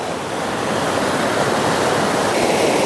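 The Seuti river near Dharan, swollen with monsoon floodwater, rushes in a constant loud, close roar of churning water, a steady broadband wash with no voices or breaks.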